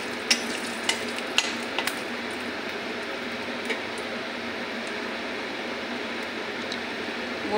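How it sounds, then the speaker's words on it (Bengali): Bay leaves and dried red chillies frying in hot oil in a pan make a steady, soft sizzle with a few sharp crackles and pops near the start, heard alone at moderate volume. "তেজপাতা শুকনো লঙ্কাটা ভাজা করে নেব"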